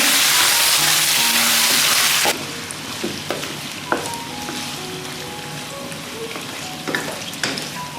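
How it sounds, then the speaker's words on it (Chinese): Pork belly tossed into a wok of caramelized sugar: a loud roaring sizzle that drops abruptly to a steadier hiss, broken by scattered scrapes and clinks of stirring. "我将这个五花肉放到锅里，给它翻均匀。"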